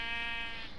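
A single wavering sheep bleat from Minecraft, a short nasal harmonic call heard clearly and alone.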